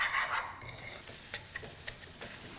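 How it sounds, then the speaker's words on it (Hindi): Semolina roasting in ghee while being stirred in a pan gives soft, close scraping strokes and a faint, steady sizzle, with no talking. "और घी में रवे को कर लिया लाइटली ब्राउन।"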